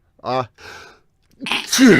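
One person sneezes, a short voiced intake followed by a sharp, breathy burst, with other people speaking around it.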